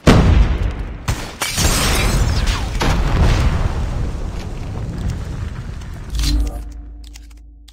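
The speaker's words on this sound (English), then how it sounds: "Flashbang!" A flashbang grenade going off in Call of Duty Mobile, a sharp loud burst followed by sustained rumbling, crackling debris and further smaller bangs, ending with a short thump as the noise fades out.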